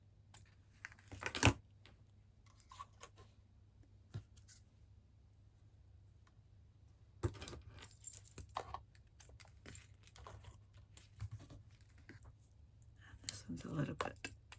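Small, quiet snips of scissors trimming paper die cuts for a lavender gift bag, scattered irregular clicks and cuts close by, with soft speech present in parts.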